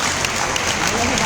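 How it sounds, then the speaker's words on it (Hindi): A seminar audience claps loudly and continuously, a dense, even wash of applause filling the short moment. "एक बार जोरदार ताली दोबारा से हो जाए।"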